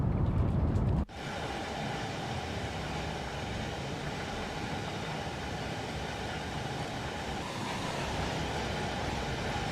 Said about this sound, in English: The train's far too fast for a flyby.